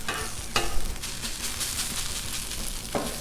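Hash browns sizzling on a hot Blackstone griddle, with a steady loud fry and a couple of sharp metal spatula scrapes as they are flipped.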